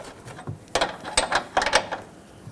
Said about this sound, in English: let's grab our wrench and snug up that fitting